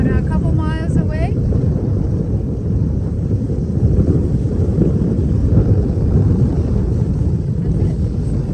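Strong wind on a sailboat at sea in the Bahamas buffets the microphone with a constant low rumble throughout, sounding close and heavy, with a brief whistling tone near the start.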